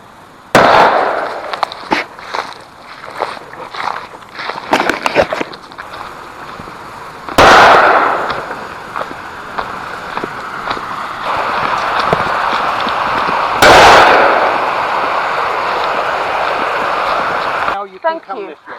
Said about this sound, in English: I hope we didn't give you a fright when we were shooting